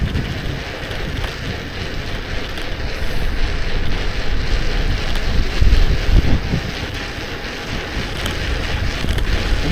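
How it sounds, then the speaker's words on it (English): Strong wind buffets a rider moving at about 40 km/h on an open road, a loud, rough, continuous roar of rushing air swelling and easing in gusts. "the wind is blowing into me at 40 kilometers an hour"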